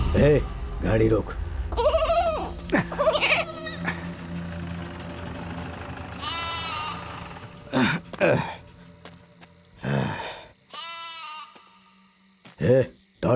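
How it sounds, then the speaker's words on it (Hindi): A stray goat bleats several times at night in a village, short wavering cries near the microphone alternating with people talking, amid a faint insect hum. "ये बकरी यहाँ कहाँ से आ गई रे?"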